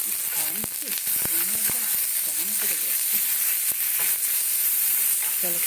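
Tomatoes sizzle in a pan with salt, a steady bright hiss running throughout with sharp utensil clacks and a faint voice underneath.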